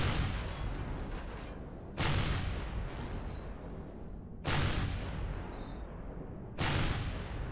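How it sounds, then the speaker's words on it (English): Repeated heavy impacts and blasts from projectiles striking a ship's hull during combat in Empyrion Galactic Survival, four sharp hits about two seconds apart, each with a loud attack and a long rumbling tail, no talk. "Considering the amount of like little dings on the hull we hear"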